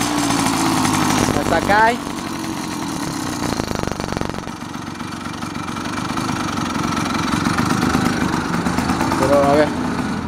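Small gasoline engine running loudly at steady revs, near and dominant throughout, with someone talking over it.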